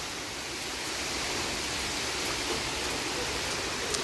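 Rain pours steadily in a dense, even hiss that fills the whole clip without pauses, loud and close, with no voices over it.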